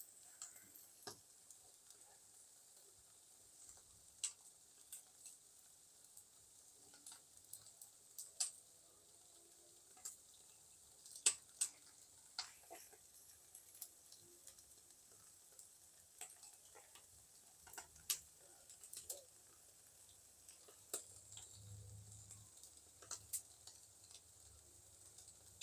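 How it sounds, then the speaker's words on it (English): A picanha cut of beef sizzles over an open wood fire, a faint, steady hiss broken by sharp pops and crackles at irregular intervals, quiet and without voices. "Sizzle, baby."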